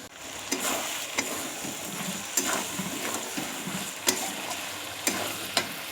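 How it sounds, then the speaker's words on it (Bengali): Raw peas for ghugni sautéed with spices in a pan: a soft, steady sizzle with occasional sharp ticks and scrapes from a spoon, close and moderately quiet, without speech. "এক মিনিট মতো মটরটা কষিয়ে নেব"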